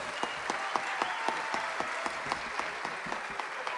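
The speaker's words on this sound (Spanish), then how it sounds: "para quien pido un caluroso aplauso" Applause from an audience welcoming historical novelist Francisco Martín Moreno at a university conference, a steady dense wash of many hands clapping with regular accented beats, sustained throughout at moderate loudness.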